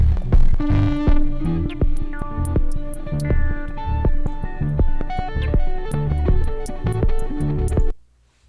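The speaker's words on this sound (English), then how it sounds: "And then we go to full-on distortion here." Heavily distorted, gritty drum-driven music plays loudly through a full distortion effect from the Airwindows Smooth plugin, with throbbing, saturated tones and sharp hits, then cuts off abruptly into near silence.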